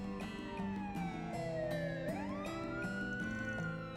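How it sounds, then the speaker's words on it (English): A wailing police siren in the video game Trails Through Daybreak II rises and falls continuously over a steady musical backdrop, loud and close throughout. "A police siren?"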